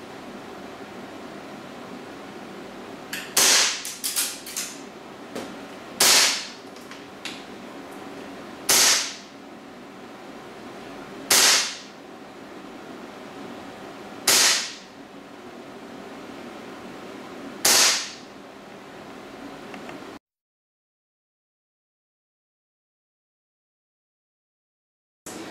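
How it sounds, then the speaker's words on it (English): AST G19 airsoft pistol with a double-feed magazine fired during a velocity test, six sharp snapping shots spaced a few seconds apart, close and loud over a steady background hiss, then silence. "We're going to test the FPS for this G19 and see how she fires"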